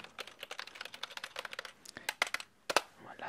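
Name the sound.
typing on a computer keyboard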